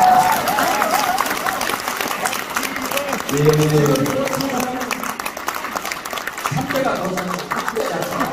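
An audience at a Busan Democratic Party concert applauds for Park Jie-won, clapping spread through the crowd with someone speaking briefly over it.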